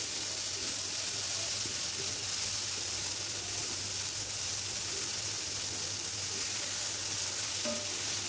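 Ginger garlic paste and chopped tomato fry in hot oil for a chicken curry, giving a loud, continuous close-up sizzle that holds steady throughout with no voices.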